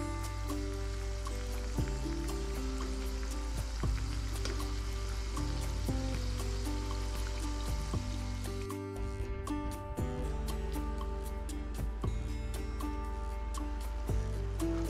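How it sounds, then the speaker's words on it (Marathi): Spicy shankarpali dough pieces fry in hot oil, giving a steady bubbling sizzle with scattered crackles that runs the whole time, heard with no talking. "आता पूर्ण आपण असंच तळून घेऊयात"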